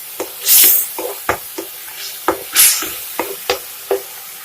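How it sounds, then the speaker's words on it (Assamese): Heart leaves being fried in a pan for an Assamese chutney, with sharp taps and scrapes of a stirring utensil at an uneven rhythm and two short bursts of hissing sizzle, close and moderately loud. "ভাজিব লাগিব।"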